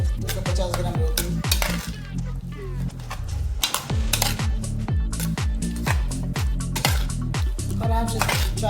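Broccoli, potato and peas are stirred in a pan, with a spoon scraping and clinking against the metal in rapid, irregular strokes that stay loud and close the whole time.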